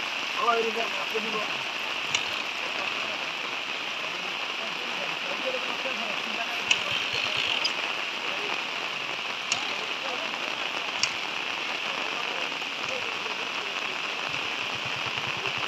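Steady rain falls at a village riverside net fishing spot, a dense even hiss of drops on surfaces throughout, with a few faint clicks and occasional voices in the background.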